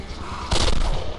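A single loud gunshot rings out in the game Wasteland 2 Director's Cut, a sharp blast about halfway in that decays quickly after a quieter, rumbling lead-in.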